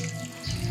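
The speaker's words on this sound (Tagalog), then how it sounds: "Ang linis-linis ng tubig na lumalabas." Clean water streams from the outlet of a biosand filter, a steady close trickle that thickens into a fuller splash partway through, with no talk.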